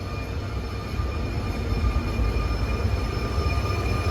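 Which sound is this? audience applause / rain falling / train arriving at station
train arriving at station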